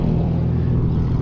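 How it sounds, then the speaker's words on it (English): Loud car engines rumble in a town street, a heavy, steady low drone close by that holds constant for the whole moment with no talking. "Everyone's car is loud here for some reason."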